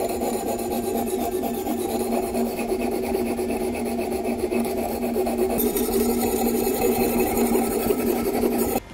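A Morakniv scandi-grind knife grates steadily on an electroplated diamond stone, giving a continuous close rasping scrape of metal on abrasive with no pauses.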